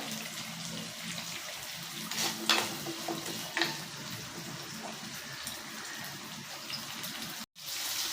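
Curry leaves sizzle in hot oil while onion kara kuzhambu is being made, a soft and steady frying hiss broken by occasional light clinks from stirring.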